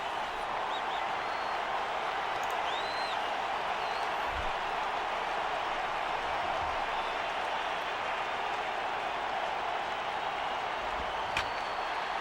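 Crowd noise in the MLB 11: The Show baseball video game during a playoff game, a steady, dense roar of cheering and applause that holds level throughout with no break.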